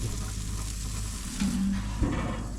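Bacon frying in a pan gives a steady background sizzle with a couple of brief louder pops and scrapes partway through, no voices.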